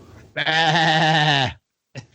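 A single long, loud sheep bleat, harmonic and wavering, sounds up close for over a second, followed by a brief faint sound after a pause.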